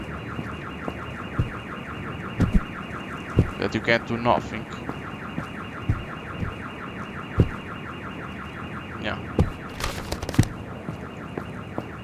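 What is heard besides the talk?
car alarm sounding in a video game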